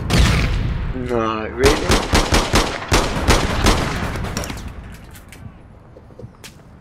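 Rapid bursts of gunfire from the video game APB Reloaded crack out in a quick string of loud, evenly spaced shots, then fade to a few scattered pops, with a player talking briefly at the start.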